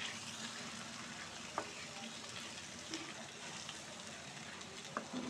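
Radish leaf bhujiya sizzles in a pan with a continuous frying hiss, broken by a few sharp spatula scrapes and taps as it is stirred.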